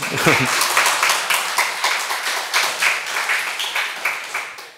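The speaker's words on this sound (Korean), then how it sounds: "다른 교회는 이때쯤 박수도 쳐주더라" A church congregation at an autumn revival service claps in a quick, rhythmic pattern, the close, bright claps pulsing steadily, with a voice heard briefly at the start.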